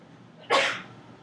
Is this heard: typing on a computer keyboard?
no